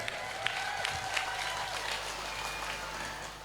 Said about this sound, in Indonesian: Tepuk tangan untuk WBL.